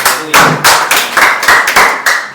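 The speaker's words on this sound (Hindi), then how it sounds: "आप प्रभु की उपस्थिति के लिए ताली बजाइए" A church congregation at a Sunday service claps in a loud, close, regular rhythm, each beat landing as a sharp burst in quick steady succession.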